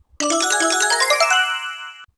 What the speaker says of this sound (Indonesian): muncul notifikasi dari sistem